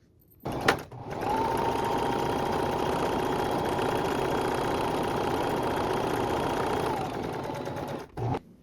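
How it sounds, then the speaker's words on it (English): A sewing machine stitches a shirt sleeve in one long, steady whir of about seven seconds, loud and close, with short clicks as it starts and stops. "So we'll sew this sleeve first and then try it on"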